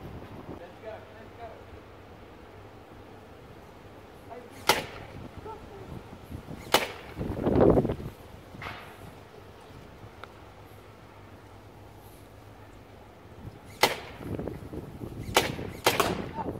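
A Raspberry Pi controlled sentry gun fires real bullets outdoors, sharp isolated bangs spaced several seconds apart and then a closer cluster near the end, over wind noise.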